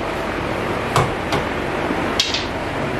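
Several sharp metallic strikes of a hammer on brake components from a big brake kit being fitted to a Ford XR6 Turbo ring out over a steady broadband workshop noise, spaced irregularly, with no talking.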